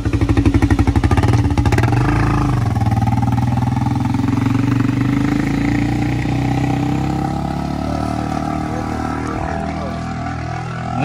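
An ATV engine running during a ride, a loud close droning buzz with a rapid pulsing beat at the start that settles into a steady roar.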